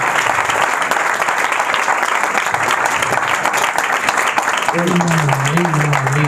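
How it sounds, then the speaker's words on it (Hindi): A church congregation applauds loudly and continuously as a dense, even wash of clapping, while a voice rises over it near the end. "आइए जोरदार तालियों के साथ"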